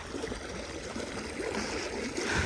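Water from a running irrigation pump motor pours steadily into a small field with garden plots, a continuous close gushing and gurgling flow with no talk over it.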